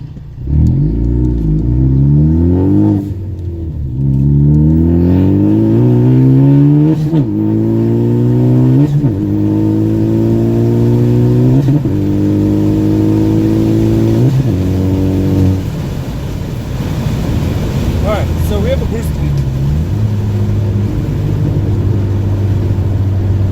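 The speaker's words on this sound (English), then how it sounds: "Obviously the car is much louder." A Ford Focus ST fitted with a charge pipe and Tial blow-off valve accelerates hard through repeated gear changes with the front windows and sunroof open, its loud engine note climbing in pitch over and over, then settling to a steady drone.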